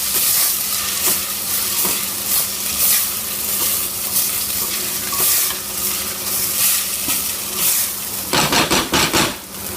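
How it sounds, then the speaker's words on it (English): Lamb curry ingredients frying in ghee, a loud continuous sizzle with spoon stirring, ending in a burst of rapid scraping and clattering against the pot. "Just let it coat with the ghee."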